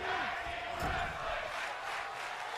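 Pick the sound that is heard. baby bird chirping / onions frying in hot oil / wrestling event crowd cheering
wrestling event crowd cheering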